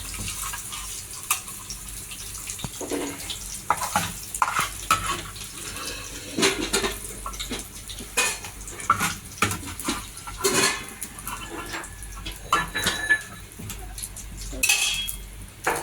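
Fried chicken sausages are moved into a cooking vessel, with close clattering of utensils and metal dishes, irregular scraping and clinking bursts, and some watery background noise.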